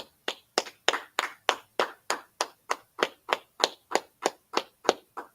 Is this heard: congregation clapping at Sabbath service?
yes